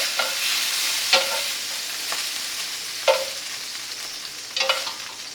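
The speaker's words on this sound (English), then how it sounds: "We're going to throw the rest of the meats in here. Let them brown." Meats browning in a pan for Sunday gravy, a steady close sizzle broken by a few scraping strokes and clinks of a utensil against the pan, no voices.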